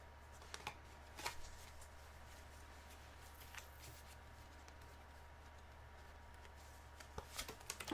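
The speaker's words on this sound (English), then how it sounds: "I'll shuffle the deck a little bit more." A deck of tarot cards is shuffled by hand, quiet riffling snaps occurring in a few brief bursts over a low steady hum, close and faint.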